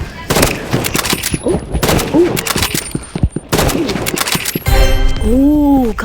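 Gunfire from a video game, with sniper shots among a busy exchange. Sharp, loud reports are interspersed with rapid bursts and metallic pings. A player talks briefly over the action.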